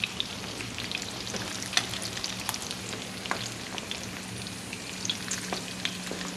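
Bacon end pieces fry in a pan with a steady, close sizzle and scattered sharp pops and crackles, and no talk.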